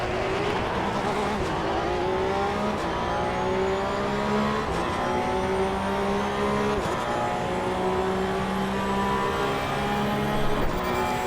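A race car in the sim racing game Assetto Corsa EVO, driven with a Moza R5 wheel, its engine revving steadily through repeated gear shifts with rising and falling pitch, loud and continuous with no talk over it.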